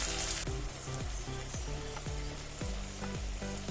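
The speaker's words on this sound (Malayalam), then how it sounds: "ഒരു അഞ്ച് പച്ചമുളക് ഇത്ര ഇട്ടിട്ട് എണ്ണയിൽ നല്ലപോലെ ഒന്ന് വഴറ്റിയെടുക്കണം" Onion and green chilies sauté in hot oil for a green gram thoran, a dense, continuous close sizzle with a row of regular spoon-stirring knocks against the pan and no talking.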